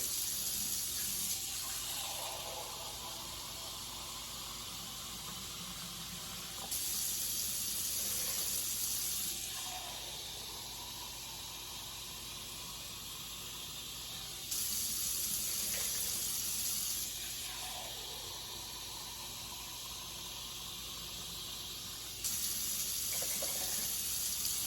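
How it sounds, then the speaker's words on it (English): Tap water running into a pot for shrimp stock, made with shells and no heads: repeated bursts of hissing flow, each a few seconds long with quieter gaps between them, filling the measuring cup and pouring. "we're gonna add about 8 cups of water to this."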